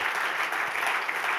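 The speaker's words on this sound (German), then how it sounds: "Geben wir ihnen einen richtig lauten Applaus hier aus dem Kalkofen raus." Applause from a church congregation at a Kalkofen service, a steady dense wash of clapping heard at a moderate distance without any voices over it.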